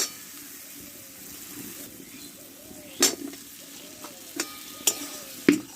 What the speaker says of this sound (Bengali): কষে রাখা আলুটা আমি এর মধ্যে ঢেলে দেবো